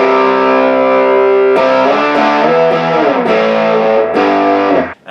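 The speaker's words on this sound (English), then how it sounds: "the maximum distortion now" Electric guitar through a Paul Cochrane Timmy V2 overdrive pedal set to maximum distortion: a held chord followed by several strummed, fuzzy chord changes, loud and saturated, ending with a quick choke.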